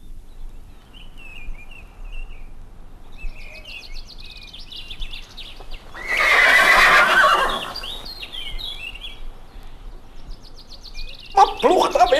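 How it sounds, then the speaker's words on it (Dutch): Horses whinny in a staged fairy-tale radio play about plowing, with a loud neigh burst in the middle and another sharp one near the end over faint background bird-like chirps. "Wat ploegt dat weer lekker voort, al mijn paarden?"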